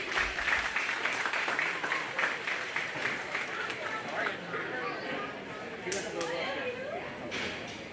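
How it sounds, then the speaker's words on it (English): Applause from the crowd at a county fair livestock show ring, a steady wash of clapping with chatter and other crowd noise around it, moderately close. "If you guys would give them a round of applause, we'd appreciate it."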